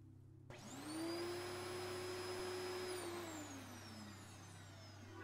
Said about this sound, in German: Ein Staubsauger.